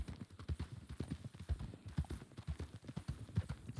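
Horse hooves clip-clop in a steady, brisk walking rhythm in a Red Dead roleplay game, close and continuous with low, soft thuds.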